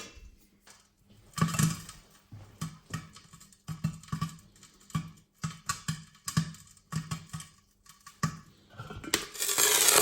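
Spicy popcorn kernels with chili flakes popping inside an Instant Pot, an irregular run of sharp close pops and clinks against the metal pot that grows busier toward the end.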